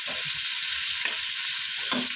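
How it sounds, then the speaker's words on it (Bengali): Bitter gourd fries in oil in a pan, a dense steady sizzle with a few brief stirring scrapes, close and continuous with no voices. "আর এখানে উচ্ছে ভাজা"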